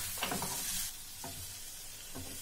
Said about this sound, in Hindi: अभी मैं इसमें बेल पेपर्स डाल दूंगी। इसे अभी और 1 मिनट इन सबको सौते करेंगे।